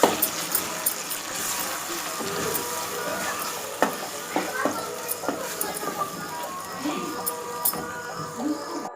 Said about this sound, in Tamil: இப்போ நல்லா மசாலாலாம் சேர்த்துட்டு மிக்ஸ் பண்ணி விட்டுறலாம்.